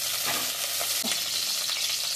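Oil heats and sizzles in a kadai before tempering for coriander leaf thokku, a steady, close, even hiss of frying with no one speaking.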